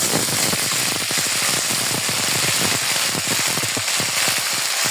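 Cardamom, cinnamon, bay leaf and black pepper frying in hot oil, a dense, loud, continuous crackle of rapid spitting pops, steady throughout.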